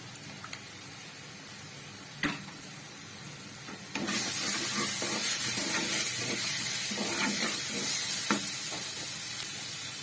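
Cumin powder and chili spices hit a hot pan for chicken karahi, a quiet hiss at first that swells abruptly into a loud, steady sizzle with crackling spits and stirring scrapes, no voices.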